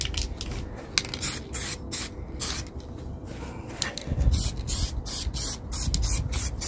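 Etch primer sprays from an aerosol can in short hissing bursts and longer continuous blasts, close and fairly loud, applied outdoors in sunshine to a Citroen C1 during a side stripe install.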